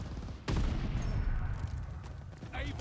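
A grenade detonates in Call of Duty Vanguard multiplayer with a sudden loud boom, followed by sustained rumbling gunfire and battle noise, with faint voice under the din.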